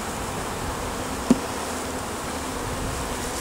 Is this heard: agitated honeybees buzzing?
yes